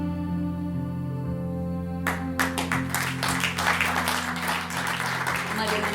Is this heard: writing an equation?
no